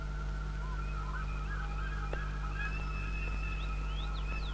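A turkey calls in a rural scene, giving a few faint, high, rising chirps over a steady low hum, with no voices.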